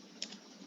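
Typing on a computer keyboard, a single soft key click over faint room hiss, close and quiet.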